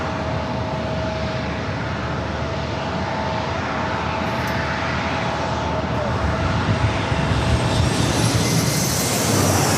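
A WestJet jet airliner passes at San Diego airport, its engine roar loud and broad, holding steady and swelling slightly toward the end with a thin whine riding over it.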